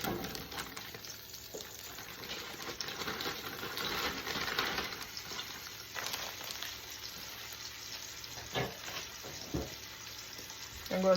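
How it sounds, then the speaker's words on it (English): Beef stew meat frying in hot grease, making a steady, dense sizzle that carries through the whole stretch, with occasional clicks and small bumps. Close and even, with no talk. "My grease is hot enough now, so I'm going to put the rest of the stew meat in"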